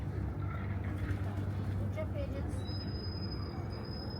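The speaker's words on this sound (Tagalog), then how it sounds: "Oh, ang daming kalapati." Pigeons coo softly amid a busy outdoor din near Ascension Cathedral and Green Bazaar in Almaty, Kazakhstan, with a low engine rumble and distant voices in the background.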